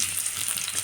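Potato pieces hit hot oil already seasoned with cumin and a bay leaf and sizzle with a bright, steady hiss, close and moderately loud, over a short moment.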